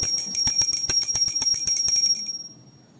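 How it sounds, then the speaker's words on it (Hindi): A hand bell rung during a Hindu puja offering, struck in a steady rapid series of about fifteen bright metallic rings over two seconds, close and clear, then a brief fading tail. "तो अब हम घंटी बजाकर लगा देंगे भोग।"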